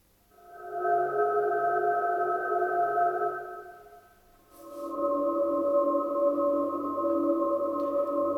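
A sustained multi-band resonator synth patch on a Gotharman Tuul, with a resonant, ringing timbre, holds for several seconds, dips, then shifts to a new pitch, trailing reverb and echoing delay.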